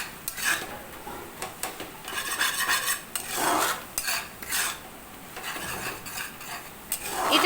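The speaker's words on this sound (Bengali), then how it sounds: "এটা কিন্তু একদম মিডিয়াম ফ্লেমে আমাদের নাড়াচাড়া করতে হবে" Maggi noodles are stirred in a pan over a medium flame, with repeated scraping and rubbing strokes of a utensil against the metal and a faint sizzle underneath.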